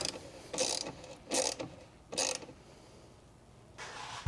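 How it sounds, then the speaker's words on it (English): Ratchet tightening the last bolt on a turbo intake of an Audi A3 VR6 build, three short bursts of close clicking strokes followed by a quieter fourth, separated by brief pauses. "Gotta get this last little bolt in. Nice and tight."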